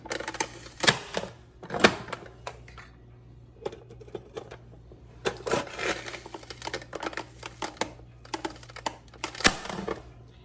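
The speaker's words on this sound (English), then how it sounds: "Now we're gonna chop some veggies." Irregular bursts of sharp knocks of a knife dicing bell pepper on a cutting board, coming in quick clusters with short pauses.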